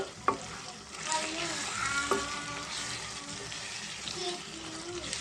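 Chicken pieces frying with chili powder and coriander powder for a Sunday chicken curry, a close, even sizzle with a few clanking stirs of a spoon against the pan, no voices.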